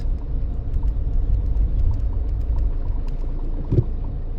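A Mini with a rattling gearbox idles and pulls away in first, a steady low engine rumble with light metallic rattling throughout and a brief clunk near the end.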